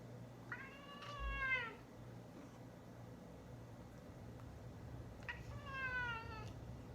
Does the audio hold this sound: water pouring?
no